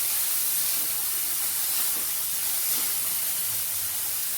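Onion, curry leaves and a green chili sautéing in a pan for a poached egg stew, giving a steady, close broadband hiss and sizzle that runs without pause and with no talking.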